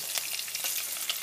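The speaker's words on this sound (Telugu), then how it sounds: "ఆ తర్వాత ఇటు పక్కగా ఆయిల్ పెట్టుకొని అందులో మీరు పోపు పెట్టుకోవాలి" Tempering spices sizzle in hot oil in a pan while making wheat rava upma, a steady close crackle with dense pops and no talking.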